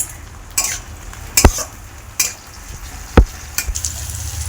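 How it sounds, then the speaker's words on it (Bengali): Chopped ginger and onion frying in a pan for a rohu fish curry, a steady close sizzle broken by a few sharp utensil knocks and scrapes against the metal. "আদা কুচি চলে গেছে এবার লাল করে একটু ভেজে নেবো"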